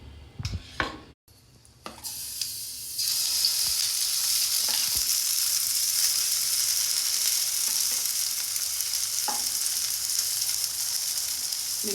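Uttapam batter on a hot pan with ghee, a few clattering pan and utensil knocks at first, then a loud, steady sizzle that fills the rest.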